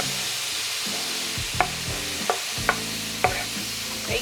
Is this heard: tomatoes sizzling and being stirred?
yes